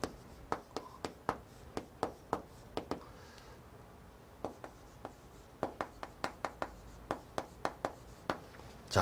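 A pen writes an accounting formula by hand on paper, making quick, sharp taps and strokes in short irregular bursts with brief pauses. The sound is close and quiet, with no talking.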